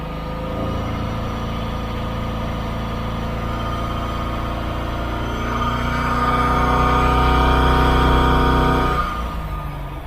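A Holden 355 stroker engine runs on a dyno at about 90 km/h, holding a steady drone before building louder for a few seconds and then dropping away.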